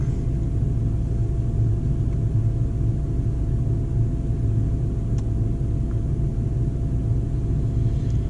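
A Dodge Hellcat V8 sits idling, a steady low rumble that holds an even level throughout with no revving and no voices.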